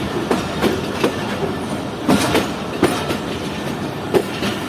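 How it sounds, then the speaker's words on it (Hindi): Freight coaches being loose-shunted by a locomotive in the Rawalpindi railway yard, loud rhythmic clickety-clack of wheels over rail joints in repeated bursts, close by and without talk. "इधर लूज शंटिंग हो रही है, HB 28038 कर रहा है।"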